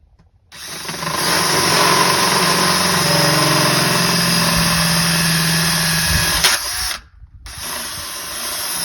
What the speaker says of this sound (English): I'm going to drill this hole out just a little bit bigger than what it is right now